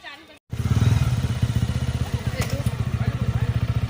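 After a brief cut, a motorcycle engine thumps in a steady, rapid rhythm close by, idling or riding at low speed.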